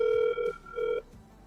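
Telephone ringback tone while calling someone who may be asleep: two steady electronic buzzing bursts with a short gap between them, clear and moderately loud, with no voices.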